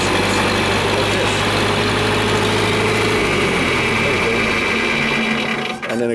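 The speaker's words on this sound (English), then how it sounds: "we had erratic engine RPM fluctuations like this" A worn John Deere 3020 tractor engine runs with erratic RPM fluctuations, a loud, close, steady mechanical chatter that wavers in pitch before suddenly cutting off near the end.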